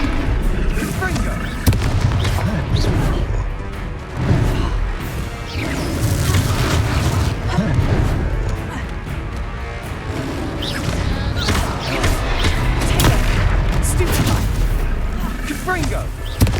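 Repeated Confringo fire spell blasts in Hogwarts Legacy combat, booms and crashes going off one after another amid chaotic fighting, with voices talking and shouting over them.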